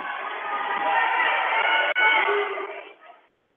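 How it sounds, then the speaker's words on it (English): Crowd at a high school wrestling regional dual meet between West Delaware and Union, a loud steady roar filling the gym after a fall, with a brief dropout near the end before the noise fades away. "Well, you can just hear the crowd."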